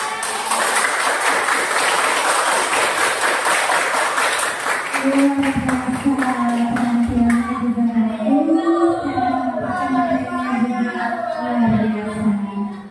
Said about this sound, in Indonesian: Tepuk tangan sekali lagi untuk kelompok 3